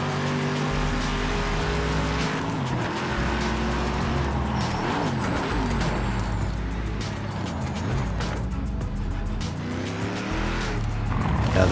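Race cars in a VR racing game roar with steady engine drone and shifting revs, tire squeals and skids rising over the top, loud and continuous from start to finish.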